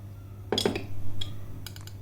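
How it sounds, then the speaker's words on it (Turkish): A heaped dessert spoon of ground Turkish coffee tipped into a cup beside a copper cezve, giving a couple of close, light clinks of metal on porcelain, then soft scraping, over a low steady hum. "ben bir fincana bir tepeleme kaşık koyuyorum"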